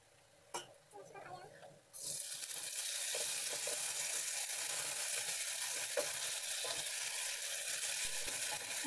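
Chicken frying in a pan during home cooking, partly cooked. A brief clatter comes first, then a loud, steady sizzle sets in and continues close up without a break.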